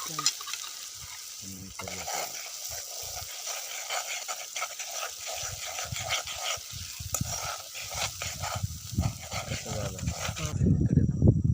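Crabs being stirred into a spicy masala in a pan give a steady sizzle with repeated scraping and stirring strokes, while a dog barks nearby and a voice talks at times.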